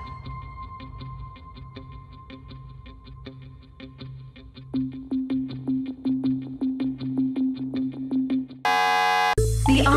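A ticking countdown pulses in a steady rhythm over music, then a loud, harsh game show buzzer blares at the end.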